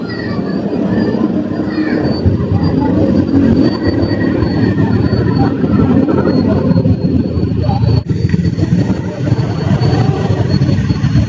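An LRT light rail train at Quirino Station on Quirino Avenue gives a loud, continuous rumble with steady rolling noise and no pauses, heard close by with no talking.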